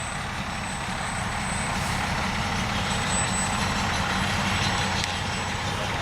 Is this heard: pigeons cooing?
no